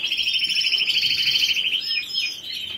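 Small birds chirp and tweet continuously and close by, a dense run of bright, rapid repeated notes that shifts to softer, scattered calls near the end.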